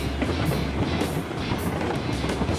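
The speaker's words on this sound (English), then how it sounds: "It is pretty cool to watch a long train snake its way around." A long train rolls along rails in the Railroads Online game, a steady near rumble with recurring bursts of clatter from the cars, continuous and alone.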